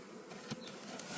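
Honeybees hum around a hive, a soft, steady close buzz with a few faint taps during a brief moment.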